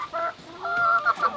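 Several chickens cluck in short, tonal bursts, a couple of calls rising in a quick run, fairly close and clear with no talking over them.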